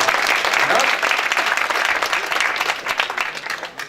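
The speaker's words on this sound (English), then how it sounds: "Come have a clap for Yeah. Group 20." Audience applause for a presentation group at a spring business expo, a thick, continuous wash of clapping from a sizable crowd that holds steady and then thins slightly toward the end.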